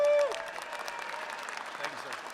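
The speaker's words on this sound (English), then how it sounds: "Give him a big hand of applause" A crowd at a Second Amendment rally claps for a singer-songwriter who is about to sing the national anthem. After a brief tone at the start, the applause continues at a moderate level under some voices.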